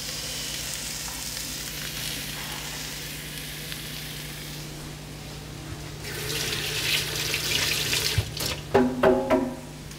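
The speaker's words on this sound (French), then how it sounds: "avec un petit filet d'huile d'olive. On baisse un peu le feu. Je mets à 7 et on balance les champignons." Mushrooms drop into a hot pan with a drizzle of olive oil and sizzle steadily, the frying hiss swelling louder with crackling bursts and some clatter near the end.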